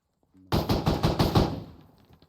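A rapid burst of about seven loud, close gunshots rings out during squad training, fired in quick succession, before the echoes fade into quiet.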